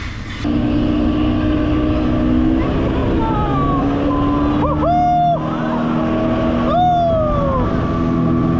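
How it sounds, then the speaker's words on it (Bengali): A motorized speedboat ride at Green Valley Park in Lalpur, Natore, starts up with a loud steady engine drone, overlaid by rising and falling whining tones and brief voices. "এই সিটগুলো ফুল হলেই এই স্পিড বোটটি চলতে শুরু করবে।"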